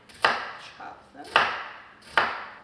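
Three sharp knife chops on a cutting board while vegetables are cut down the center for a vegan jambalaya, evenly spaced about a second apart, close and fairly loud, with no talk.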